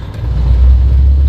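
A K-swapped Honda Prelude under way, its engine giving a steady, close, heavy low rumble throughout with no voices over it.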